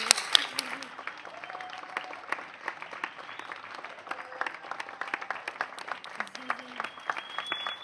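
An audience at an entrepreneurship evening applauds speakers and organizers, with continuous clapping of moderate loudness and individual sharp claps standing out, while a few voices and cheers rise briefly over it.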